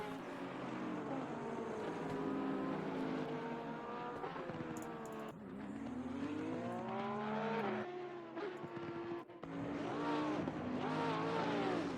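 Race car engines roar in the sim racing game Assetto Corsa Competizione, several cars revving and shifting gears in overlapping rising and falling pitches, loud and continuous with a brief dip midway.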